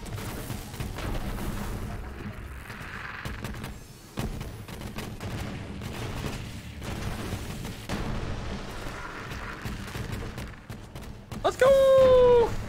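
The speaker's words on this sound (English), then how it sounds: "Come on, grenades." Pyroburst grenade blasts in the video game Borderlands 3, a string of repeated booms and crackling bursts of gunfire over several seconds, with a player talking over them and a bright rising electronic tone near the end.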